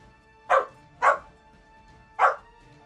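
A corgi barks three times in sharp, separate yaps, the first two close together and the third after a pause, fairly near and clear over a faint background hum, with no talking.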